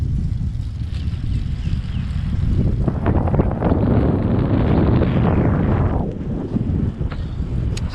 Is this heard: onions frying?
no